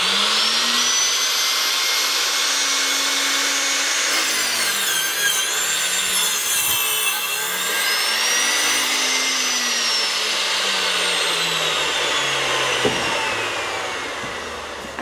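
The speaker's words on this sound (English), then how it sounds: "then it was time to lay it down and use my first ever miter saw" A first-time miter saw cuts through a scaffold board for conservatory windowsills: a loud, close motor whine rises and bends in pitch as the blade bites into the wood, then runs on steadily before easing off.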